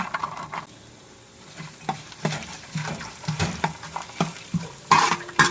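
Scraping and clattering of a spoon stirring small coconut pieces browning in a hot pan, irregular strokes over a soft sizzle, close by.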